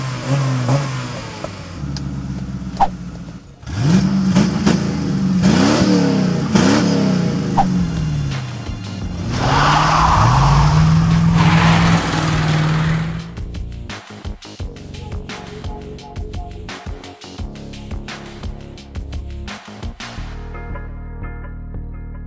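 A Mercury Grand Marquis V8 wagon engine revs hard and accelerates, with a loud rising and falling engine note that rises again into a sustained pull, then drops back toward a rumbling idle with a few clicks near the end.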